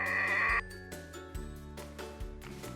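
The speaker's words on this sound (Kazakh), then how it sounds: "Бұл бізде қой." A sheep lets out one loud, drawn-out bleat at the start, followed by quieter, softer sounds that carry on to the end.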